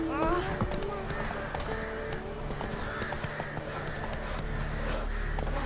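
Roach, a horse in a video game, gallops with rapid, steady hoofbeats and an occasional whinny, mixed with game music and voices talking over it.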